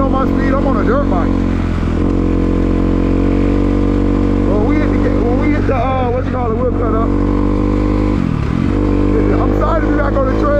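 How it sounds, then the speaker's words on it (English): A dirt bike ridden on a trail in the rain, its engine droning loudly and continuously with pitch rising and dipping as the rider speeds up and slows, close to the microphone. "So yeah, we're riding in the rain."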